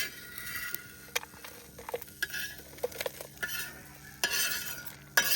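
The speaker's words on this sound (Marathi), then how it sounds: "मिरच्या भाजून घेतो" Chillies roasting in a little oil in a pan for a spicy village-style crab curry, with steady frying sizzle under repeated stirring scrapes and light clinks of utensil against the pan, close up.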